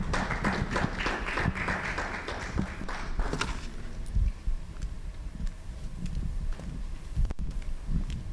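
A conference audience at a pension plan open forum claps for the board chairman, a dense patter of applause for about three seconds that fades to scattered, quieter claps and room noise.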